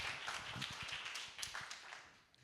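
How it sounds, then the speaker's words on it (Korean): Sparse, soft clapping from a church congregation welcoming a pastor at a worship service, individual claps distinct and uneven, fading near the end. "박수로 함께 환영했으면 좋겠습니다"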